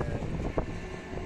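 Wind buffeting a microphone outdoors, a low rumbling gusty noise with brief louder puffs, steady and close.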